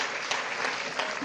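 An audience applauds for the president at a Nigerian presidential election address, producing dense, even clapping that fills the short moment, close and fairly loud, with no talk over it.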